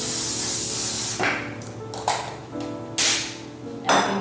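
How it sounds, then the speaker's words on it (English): Baker's Joy baking spray is sprayed onto a medium bar pan in a kitchen: a long, loud hissing spray, then three shorter bursts with brief pauses between them. "I'm going to spray a little bit of baker's joy on my medium bar pan"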